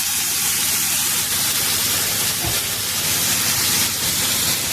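Hot water, around 100 ml, poured into a hot pan of browned dumplings, giving a loud, steady steaming hiss and sizzle that runs unbroken throughout, with a brief thump near the middle.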